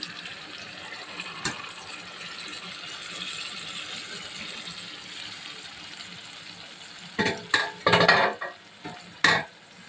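Onions and tomatoes sautéing in a pan for pav bhaji, a soft sizzle under faint room noise, then several louder scraping stirs and clatters near the end.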